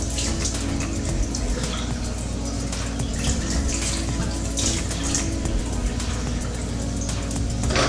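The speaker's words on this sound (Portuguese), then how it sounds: "Agora eu vou molhar meu rosto." Tap water runs steadily into a bathroom sink while someone wets their face after removing makeup, a continuous close rushing splash with no talk.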